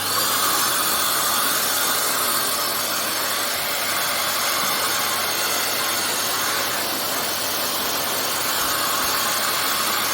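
A Dyson DC23 vacuum cleaner head runs its turbine, a loud, steady whooshing whir with airflow hiss that continues unchanged throughout.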